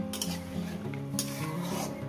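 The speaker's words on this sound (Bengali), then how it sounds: "ভালো করে সুন্দর করে নেড়ে চেড়ে এবার একটু চাপা দিয়ে দেবো" Potato curry (aloo kosha) stirred in a pan with a little water, a soft continuous sizzle under repeated scraping strokes of the spoon, with a couple of brighter clinks against the pan.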